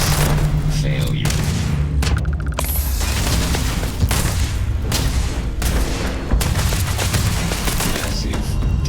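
A spaceship in Starfield takes hits from missile explosions, with repeated heavy booms and rumbling blasts throughout while a voice speaks over the combat.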